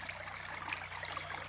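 Water from a natural volcanic spring trickles down a rock-step water feature, a steady, close, bubbling flow with no talk over it.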